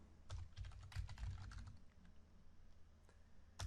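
Quick bursts of keystrokes clatter on a computer keyboard as code is typed, close and quiet, with a dense run of taps early, a short pause, then a few final presses.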